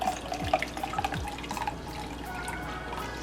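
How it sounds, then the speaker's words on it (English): Liquid rose water tea poured through a strainer to catch the rose petals, with steady splashing and dripping close by and a few clinks of utensils. "I'm just going to strain my rose petals back inside."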